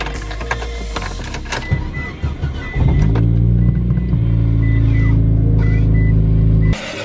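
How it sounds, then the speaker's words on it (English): Mitsubishi Evo 8 being started up, a short cranking burst followed by a steady, loud idle rumble that settles and continues until a sudden stop near the end. "So now I'm basically gonna go ahead and start the Evo"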